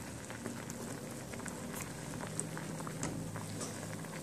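Onions, garlic and hot pepper simmering in a pot for shrimp curry in coconut sauce make a faint, even bubbling and crackle that holds steady throughout with no voices.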